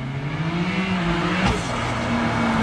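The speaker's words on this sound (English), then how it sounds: "give me a little turbo sound" A turbocharged car fitted with a VRSF front-mount intake revs nearby, giving a steady loud engine drone that rises slightly, with a brief hiss of turbo blow-off partway through.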